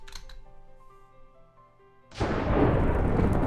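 A Minecraft lightning bolt's thunder bursts in suddenly after a quiet stretch with faint tones, then a loud, sustained rumbling crackle fills the rest.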